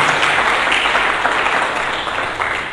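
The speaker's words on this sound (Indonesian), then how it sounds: "Mari kita berikan tepuk tangan yang meriah bagi Yesus." Hearty applause from a church congregation during a Sunday sermon fills the room, a thick, even roar of many clapping hands that tapers off gradually.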